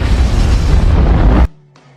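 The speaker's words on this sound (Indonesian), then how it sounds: "melihat sebuah ledakan yang sangat besar" A loud, deep booming explosion from the film Boss Level (2020) rumbles for over a second, then cuts abruptly to near silence with a faint hum.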